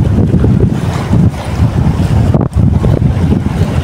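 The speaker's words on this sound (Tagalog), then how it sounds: "Salungat kasi tayo sa hangin guys, saka sa tubig." Loud, gusty wind roars and buffets the microphone without a break, along with the sound of a boat moving through water into a headwind while lure fishing in Saudi Arabia.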